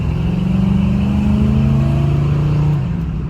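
1984 GMC Caballero with side-exiting dual exhaust: a loud, steady engine rev with a deep droning rumble held for about three seconds, then easing off slightly, close by with no voices.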